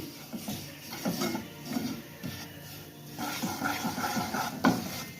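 Mushrooms being stirred with flour in a pan over low heat, giving soft repeated scraping and shuffling strokes with faint sizzling underneath, steady and close.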